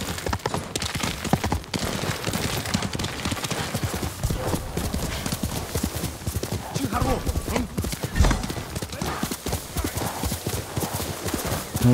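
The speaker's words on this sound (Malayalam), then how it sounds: "ഓടും കുതിര, ചാടും കുതിര," Horse hooves pound in a fast, steady gallop in Ghost of Tsushima, loud and close throughout, with game music and effects and a faint whinny mixed in. Someone talks over parts of it.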